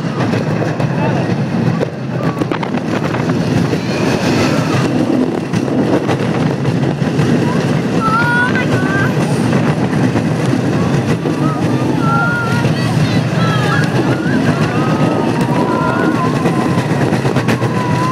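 Steady loud rumble of a Jaguar roller coaster car running along its track, with rattling and wind buffeting throughout and some faint voices mixed in.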